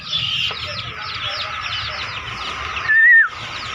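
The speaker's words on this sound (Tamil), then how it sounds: "கோழி குஞ்சு" High-pitched cheeping from chicken chicks repeats rapidly and continuously, with a brief sharper chirp near the end over low background noise.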